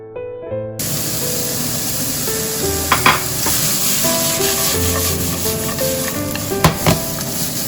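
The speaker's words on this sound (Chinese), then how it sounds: "倒入毛豆" Edamame tossed into a hot wok and stir-fried for scallion oil noodles, sizzling loudly and steadily with scraping spatula strokes and a few sharp clanks, no talking.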